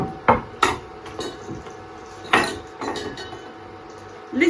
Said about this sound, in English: you pop the plate on top of your pan like that